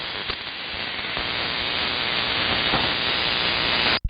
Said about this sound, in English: it sounds like just a constant white noise